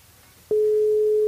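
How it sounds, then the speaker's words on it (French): A steady telephone line tone starts abruptly after a brief quiet moment and holds as a single continuous pitched beep, loud and close, while a radio studio calls a listener. "On appelle Marine sur le standard"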